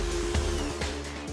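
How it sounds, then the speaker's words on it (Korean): Steady whine of a power sander smoothing kitchen surfaces with progressively finer sandpaper during a remodel, continuous and close with brief grinding surges. "그 다음에 요 이제 조금 덜 거친 걸로 순차적으로 샌딩을 해서 광을 내는 거예요"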